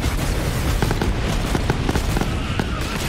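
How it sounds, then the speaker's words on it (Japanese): A big explosion in the video game Borderlands 3 rumbles amid scattered pops and gunfire-like bursts, a dense, noisy cascade of booms with faint speech underneath. "なんだ大爆発"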